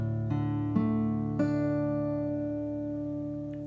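A guitar strums a D-type chord three times in quick succession, then lets it ring and slowly fade, heard alone and close.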